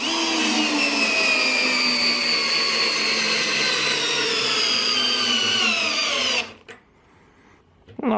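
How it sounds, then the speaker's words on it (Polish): A Parkside cordless drill in performance mode on a new Smart battery drives a 12 cm long, 10 mm wide screw: a loud, continuous high motor whine whose pitch slowly drops under load, then stops abruptly near the end. "Wracamy do zielonej wkrętarki. Akumulator e, Smart e, tryb performance, wkręt 12 cm długości, 10 mm średnicy."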